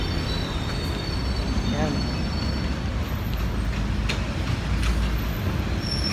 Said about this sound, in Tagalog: medyo maingay kasi Rojas Boulevard to, maraming truck.